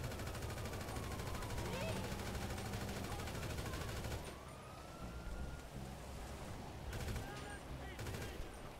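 Gunfire in the GTA video game as a driver is shot, heard under a dense, constant wash of game noise and music that masks individual shots, with a siren-like tone drifting through and a few sharp bursts near the end.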